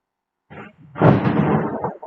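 Thunder rolls during heavy rain, opening with a faint rumble that swells into a loud, deep roar lasting about a second before easing off.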